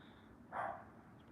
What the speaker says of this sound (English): did I ask for the dog to bark in the background?